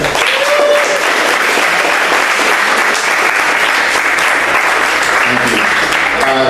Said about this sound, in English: Time for a round of applause for Eric.